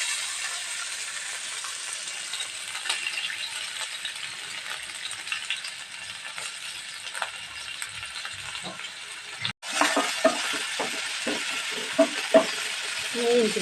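Crushed ginger, garlic and fennel seeds fry in hot oil for a boti roast, giving a steady, fine hissing sizzle. After a brief cut, the sizzle continues with sharp metallic clinks of a stirring utensil.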